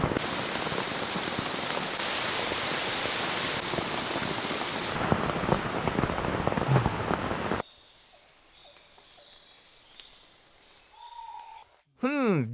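Steady heavy rain falls on a Florida rainforest for about seven seconds, loud and dense, then stops abruptly, leaving quiet background with faint distant rumbles before a brief loud burst at the end.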